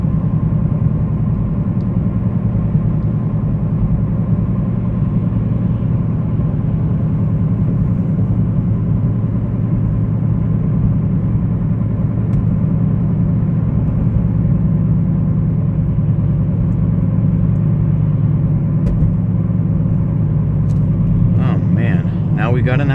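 A 2014 Honda Civic Si sedan cruises with a steady low engine drone and road rumble from inside the cabin, constant and fairly loud, with a voice talking over it at times.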